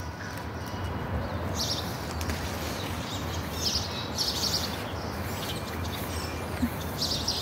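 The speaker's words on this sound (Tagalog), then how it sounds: "Nag-aawit yung mga ibon" Birds sing in a home rose garden, with faint scattered chirps and tweets spread across the outdoor background at a distance, over a steady low rumble of ambient noise.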